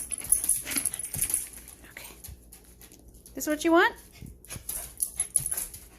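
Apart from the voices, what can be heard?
dog whimpering and barking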